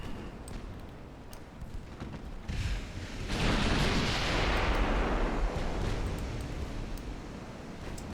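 Naval gunfire and shell hits between a battlecruiser and a battleship in a video game, with distant thuds followed by a heavy booming blast that rumbles and slowly fades.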